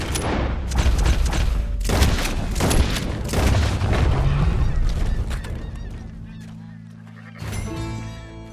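Gunshots ring out in Red Dead Redemption 2, several loud booming cracks in quick succession mixed with honking animal cries, fading into a lingering rumble.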